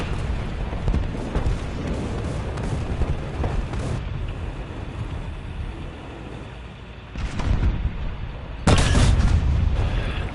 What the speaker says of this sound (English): Chris, can you stop bombing dead bodies?